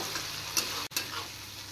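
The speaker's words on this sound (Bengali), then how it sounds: "এবার শুধু মশলাটা কষিয়ে নেব" Spice masala of turmeric, salt and chilli powder frying in oil for a fish curry, a short close sizzle with a couple of sharp spoon scrapes and a brief cut in the middle, no talking.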